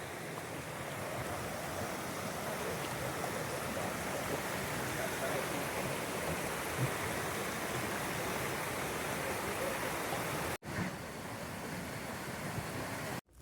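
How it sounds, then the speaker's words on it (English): Constant rushing waterfall roars close by, a dense, unbroken wash of sound with a brief cut near the end. "And there's the waterfall."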